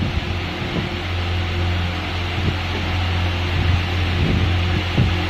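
An electric ceiling fan running steadily, with a low motor hum and whooshing airflow, plus a few faint clicks and knocks. The sound stays close and even throughout.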